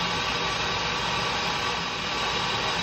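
Lathe spinning up to 1500 RPM cutting speed for machining a piston, a steady broadband whirring hum with no change in level, alone without talk.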